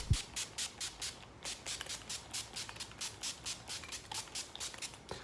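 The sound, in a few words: setting spray being sprayed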